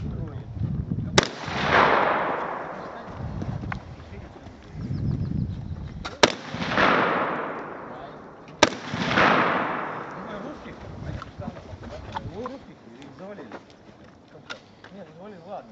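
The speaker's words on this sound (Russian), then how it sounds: "сейчас попробуй с этой стороны, стреляй с таким же." Vepr-12 semi-automatic shotgun fired outdoors, three loud sharp blasts spaced a few seconds apart, each with a long echoing tail, with people talking in between.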